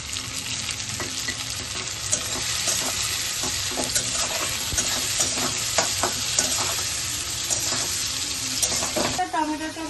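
Chopped tomato and onion sizzling in oil as they are stirred, a continuous frying hiss broken by frequent spoon scrapes and knocks against the pan, close up, ending in a brief shift near the close.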